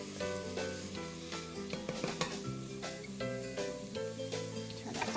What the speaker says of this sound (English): This is going to render off about a tablespoon of that delicious bacon fat